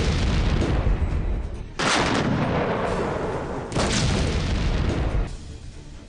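Pakistani cross-border firing in the Naushera sector of Jammu roars in heavy, sustained bursts of booming gunfire, loud and close, broken by sudden shifts between volleys.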